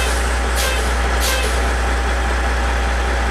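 Truck air brakes fanned down during a Class 1 pre-trip inspection, releasing two sharp, loud bursts of hissing air over the steady low rumble of an idling heavy engine.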